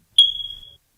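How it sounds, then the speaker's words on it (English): A smoke alarm gives a single short, piercing electronic beep, loud and close, then falls silent. "That's the smoke alarm."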